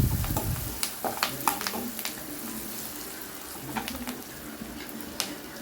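Onions stirred in oil in a frying pan, a soft continuous sizzle broken by irregular scraping knocks of a spoon against the pan, close and alone with no talk.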